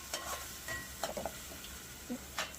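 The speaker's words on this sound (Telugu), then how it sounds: "బాగా కలుపుకుందాము." Tomato curry mixture stirred in a pan for a chicken curry, with a spoon scraping in short irregular strokes over a soft sizzle, close and fairly quiet.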